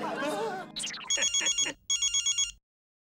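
An electronic video call ringtone on a phone, sounding as two short bursts of rapid pulsed chirping right after someone speaks, then cutting off into silence.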